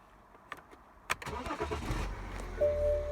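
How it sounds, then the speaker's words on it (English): A BMW car's engine cranks and catches after a few faint knocks, then settles into a steady low idle with a brief tone near the end, close by, with no talking. "I'm going to start the car."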